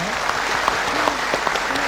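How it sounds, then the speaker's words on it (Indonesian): An audience of street vendors at a rally claps together in a sustained, even burst of applause, a continuous patter of many hands with a few louder claps standing out. "Tepuk tangan dong."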